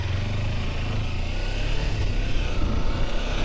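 A Kawasaki Versys X300 motorcycle riding along a dirt road, its engine a steady, close, continuous drone blended with rushing wind noise, with no speech.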